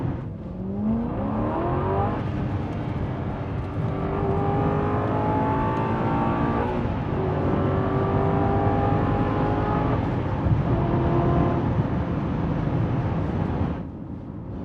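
An Aston Martin V8 Vantage 4.7 accelerates on the road with short shifts, the V8 climbing in several rising pulls broken by quick gear changes, steady and moderately loud from inside the car.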